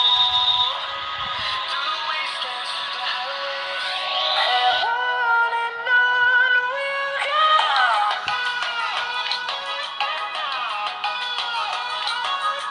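A song with bright synth and vocal-like melody plays through the small built-in speakers of a budget Windows 11 laptop, loud and thin with little low end, after one brief spoken word.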